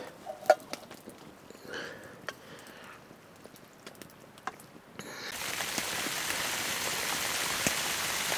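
Light rain, with a little hail mentioned, falls on a forest camp where a tipi-style shelter is being built and beef stew is cooked. A steady soft patter starts midway and continues, preceded by quieter rustling and a few clicks.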